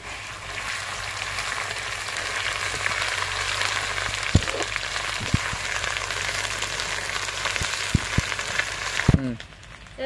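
Ginger and garlic paste frying in hot oil with whole garlic cloves, a loud, steady sizzle with a few light clinks of a utensil, fading out at the very end.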